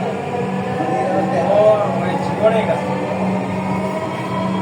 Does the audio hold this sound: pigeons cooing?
no